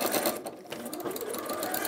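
An Elna sewing machine stitches a seam with a steady, close mechanical whir and a brief dip in speed near the start, running alone without speech.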